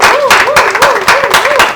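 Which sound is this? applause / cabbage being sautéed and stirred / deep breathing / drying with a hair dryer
applause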